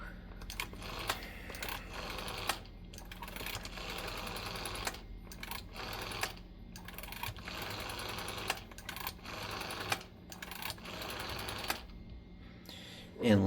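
A VEF TA68 telephone from Latvia is dialed, its mechanism giving runs of rapid, faint clicking pulses separated by short pauses, with a louder clunk at the end.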